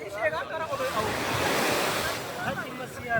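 Sea waves wash onto the shore at a Dubai beach, a steady rushing surf swelling to a loud broad hiss and receding, with wind buffeting the microphone and someone talking at the start and end.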